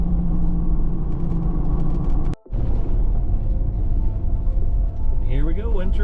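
A car cruising along a paved road in the Idaho backcountry, heard from inside as a loud, steady engine and road rumble with one momentary dropout midway.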